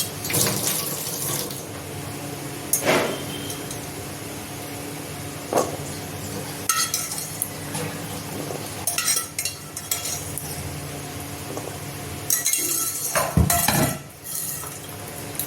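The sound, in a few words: spooning boiled chickpeas into a bowl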